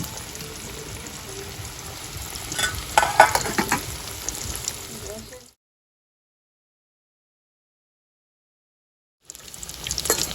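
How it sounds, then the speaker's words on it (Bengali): Chicken fingers sizzle and crackle in hot oil in a kadai, cooked village style, a steady close frying hiss that cuts out to silence midway and then resumes. "এই হলো মগো চিকেন ফিঙ্গার ফ্রাই হইতে আছে, হইয়া গেছে।"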